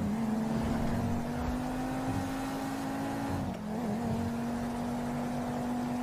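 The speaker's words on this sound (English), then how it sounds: "Why is my car going faster when I let go of the freaking, I let go of the trigger and it just goes faster" A toy RC car's motor whirs steadily and loudly at a constant high pitch, dipping briefly near the middle before settling back to the same speed, with no talking over it.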